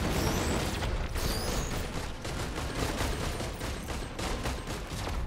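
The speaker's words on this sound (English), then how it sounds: "whenever you open anything or activate anything, you'll shoot off some fireworks" A bundle of fireworks bursting in a video game, a rapid dense crackle of popping reports layered into a continuous rattling barrage, with no voices.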